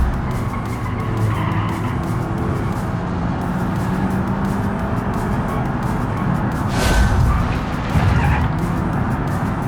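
Tires squeal and skid continuously on a car in the BeamNG driving game, loud and close over steady engine and road roar, with a brighter screech swelling partway through; a car without ABS, the left front tire locking up.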